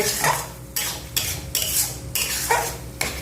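A spoon scrapes and clatters in a pan while stirring a paste of bottle gourd leaves cooked down with sugar, giving repeated close metallic strokes in a steady back-and-forth rhythm without any talking.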